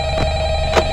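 A telephone rings in the Five Nights at Freddy's video game, a brief electronic ring with two short bursts over a steady tonal game drone.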